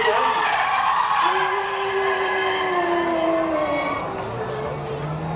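Cars drifting at the Hockenheimring drift challenge in 2010, with loud sustained tyre screeches and rising and falling engine whines sweeping past, close and continuous.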